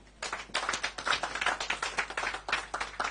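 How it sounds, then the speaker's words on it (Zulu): Applause at a National Ingoma Awards media briefing: a modest group clapping steadily and fairly close, fairly quiet with a crisp, even patter lasting a few seconds. "Shayelani ihlombe"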